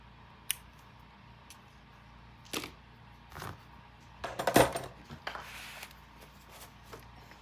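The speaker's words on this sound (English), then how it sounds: "we're going to cut it right there" Scissors cutting cardstock for a Graphic 45 Ghostly Greetings mini album, a few isolated close snips and clicks spaced across a quiet room, with a small cluster of sharper cuts near the middle.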